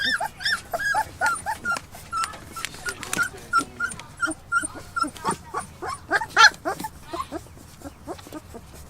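Several rescued puppies whimper, yelp and squeal close up in a steady stream of short high-pitched cries, some overlapping, with faint background noise.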